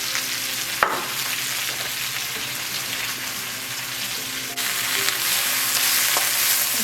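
Greens frying and wilting in a pan for a keto frittata, a steady close sizzle with a brief clatter near the start and the frying growing slightly louder partway through.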